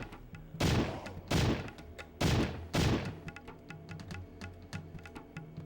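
Gunfire in a Sega Saturn video game: four heavy, booming shots land roughly a second apart, each ringing out briefly. Quicker, lighter clicks and taps follow in a loose rhythm. The sounds are loud and close, with no talking.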